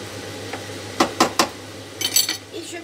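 A utensil stirs tomato paste into a meatball tomato sauce, with a handful of close, distinct scrapes and clinks against the pot in an uneven rhythm, then a brief cluster of lighter knocks.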